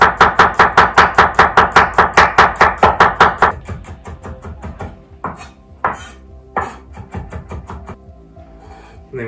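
Knife chopping garlic on a board in rapid, regular close strokes for a few seconds, then slowing to scattered, irregular cuts and scraping; no talking.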